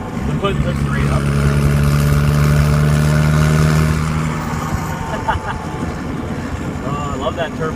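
A VW Jetta diesel with a hood stack runs close by, its turbo giving a steady whining, droning engine note that fades about halfway through, with wind buffeting the microphone and people talking over it.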